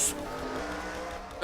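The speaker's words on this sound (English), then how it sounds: "And a terrible crash has occurred." Race car crash in a NASCAR-style racing video game, engines droning steadily with a hard impact burst at the start and another sharp hit at the end.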